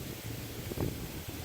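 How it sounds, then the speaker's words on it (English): Gusty outdoor wind on a cold, blustery day in Brooklyn, a steady broadband rush buffeting the microphone with a stronger low gust near the middle. "Boy, it's really a windy day, boys."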